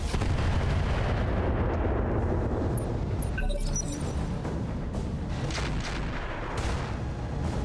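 Turrets firing at mechs in the BattleTech RogueTech video game, a dense continuous barrage of booming, rumbling artillery-like blasts with crackling impacts, loud and sustained throughout.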